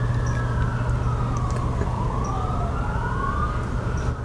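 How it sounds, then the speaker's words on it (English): A wailing emergency vehicle siren sweeps up and down continuously in the distance, steady and moderately loud over a low rumbling street background. "do you hear sirens?"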